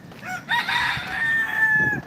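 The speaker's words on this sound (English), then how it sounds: "Rooster is saying hello." A rooster crows once nearby, a drawn-out, strained call over faint background noise.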